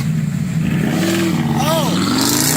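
Car engine revving hard at a rev-off, a loud continuous mid-pitched roar that rises and falls in pitch, with voices and background chatter mixed in.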